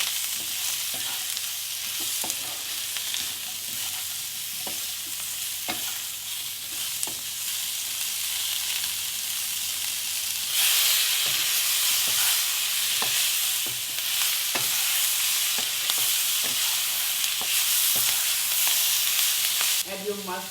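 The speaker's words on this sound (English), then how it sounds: "Add your radish, turmeric powder, and salt as per taste. Saute them for a couple of minutes." Radish with turmeric powder and salt sautéing in a pan for a catla fish curry, a continuous sizzle that grows louder and brighter midway, with scattered scraping and stirring clicks throughout.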